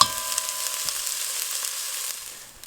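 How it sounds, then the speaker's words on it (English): Onions sizzle steadily in hot olive oil for chili, a close, even hiss with small crackles throughout that tapers off slightly at the end. "I'm just going to let them caramelize in the olive oil"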